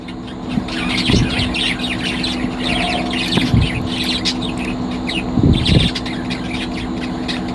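Colourful pet birds kept at home chirp in quick, bright tweets, some bunched together and some alone, with a few sharper clicks and low thumps in the room around them.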